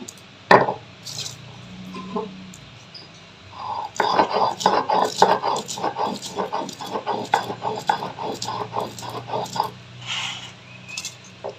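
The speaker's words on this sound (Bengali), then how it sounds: "ঝাল করার জন্য সর্ষে, সাদা সর্ষে, কালো সর্ষে আর কাঁচা লঙ্কা দিয়ে বেটে নিচ্ছি।" Mustard seeds, white and black, ground with green chilies and a pinch of salt into paste, making a loud run of rhythmic scraping and squishing strokes after a few scattered knocks.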